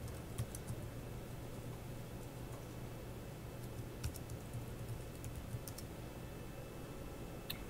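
Steady typing on a computer keyboard during a Microsoft Exchange 2010 setup and login: soft, irregular key clicks over a constant low hum, fairly faint, with no speech.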